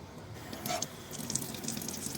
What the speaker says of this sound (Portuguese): Então, eu acionei da água mineral.